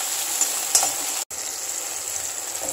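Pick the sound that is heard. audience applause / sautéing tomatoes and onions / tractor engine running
sautéing tomatoes and onions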